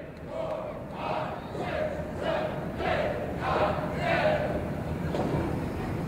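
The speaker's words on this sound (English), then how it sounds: "Listen to the crowd." A wrestling event crowd roars and chants in rhythmic surges, swelling in regular waves of cheering voices that fill the arena throughout.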